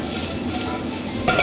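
Squid tossed into a hot oiled wok for stir-frying gives a steady broadband sizzle, close and continuous, with a brief clatter of stirring near the end.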